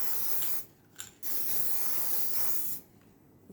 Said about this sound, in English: So you spray it like this. You do this all round.